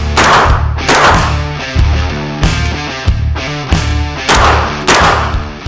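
Gunfire recorded live for a war film: a series of loud, close, sharp blasts at irregular intervals, about eight in all, each with a ringing tail and no talk.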